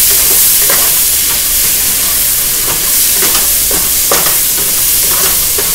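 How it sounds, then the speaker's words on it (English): Peas, carrots, onions and mushrooms stir-frying in oil for chicken fried rice: a loud, constant hiss and sizzle with scattered clicks of a utensil tossing the vegetables. "really going to stir fry everybody together. Peas, carrots, onions, mushrooms."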